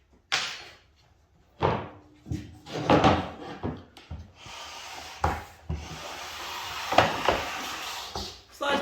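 A Wen CT1065 track saw is pushed along its aluminium rail, giving scraping, rubbing slides and a few knocks against the stop, close by with quiet pauses between strokes.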